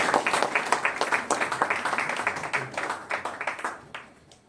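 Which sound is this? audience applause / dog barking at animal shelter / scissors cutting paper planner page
audience applause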